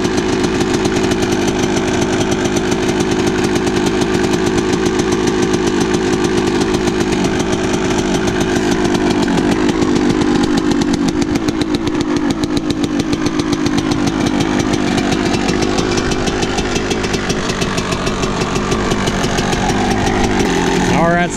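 A rebuilt Yamaha YZ125 two-stroke dirt bike engine running slightly rich idles and revs with a loud, raspy, buzzing ring, close and continuous throughout, with a voice speaking faintly under the engine noise.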